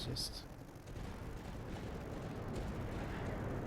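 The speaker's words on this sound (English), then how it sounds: "The orbital cannon does a decent amount of damage." Orbital cannon fire in the tower-defense video game Tower Dominion, a dense, continuous rumble of booming blasts and crackling impacts that fills the whole stretch at steady loudness.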